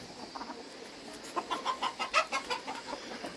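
Brahma chickens cluck in a short run of soft, repeated calls that grow louder midway, fairly close, with no talk.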